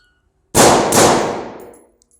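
Two sharp, loud gunshots ring out in quick succession during close quarters shooting training, each followed by a bright reverberant tail that fades out over about a second.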